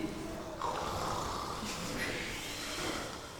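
A person imitates loud snoring, a continuous rasping, snorting breath held for several seconds, close to the mic.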